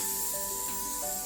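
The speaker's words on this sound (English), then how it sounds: "I'm going to spray some non-stick cooking spray on the waffle iron" Non-stick cooking spray sprayed onto a waffle iron for plantain waffles, a soft, steady hiss lasting just over a second, close and alone.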